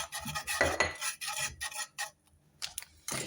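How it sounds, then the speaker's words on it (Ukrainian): Metal utensil scraping and clinking against a frying pan in repeated bursts of stirring brownie batter with cocoa, close up, with short pauses between strokes. "і перемішуємо потрошки так прямо у сковороді"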